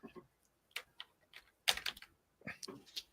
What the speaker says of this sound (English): Oh, stepping on another keyboard.